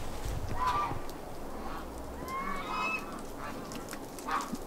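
Muscovy ducks in a large backyard flock give a few scattered hissy honks and breathy calls, near to mid-distance, over steady outdoor background noise.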